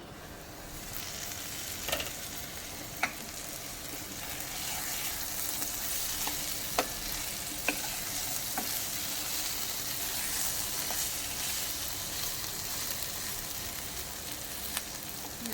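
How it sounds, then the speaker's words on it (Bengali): Eggs fry in oil in a karai, giving a steady, even sizzle throughout with a few sharp pops and ticks from the pan, moderately loud and close, with no talking. "আর একটা কড়াইতে আমি ভেজে নিই চিকেন বলো ডিম বলো"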